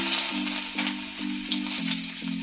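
Chopped garlic sizzles in hot oil for chili chicken, a steady bright crackle running throughout with a recurring low hum pulsing underneath, fairly loud and close with no talking.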